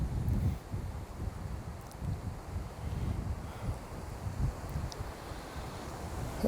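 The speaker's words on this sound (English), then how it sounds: "it is 40 mile an hour gusts today" Strong outdoor wind gusting at around 40 mph during a strong wind warning, a heavy low roar buffeting the microphone in uneven surges, loud and continuous with no voices.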